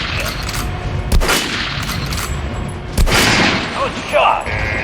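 Gunfire at training dummies in the shooter game Metro Last Light, several loud sharp shots spaced over a few seconds with mechanical weapon clatter, alongside a talking voice.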